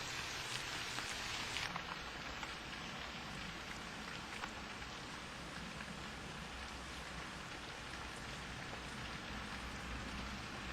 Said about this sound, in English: nice rain. Keep it up for a couple of days.